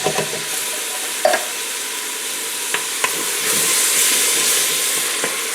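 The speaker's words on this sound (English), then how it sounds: "And stir to get any of those cooked on bits off of the bottom of the pan." Lemon juice and canned tomatoes sizzle in a hot pan while a spoon stirs and scrapes cooked-on bits from the bottom, with a steady frying hiss and a few sharp clicks of utensil on metal.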